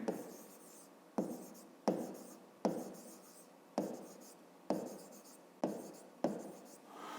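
Pen writing on paper while working a fifth-grade math problem, heard as a regular series of about eight close scratchy strokes, each starting sharply and fading, with quiet pauses between them.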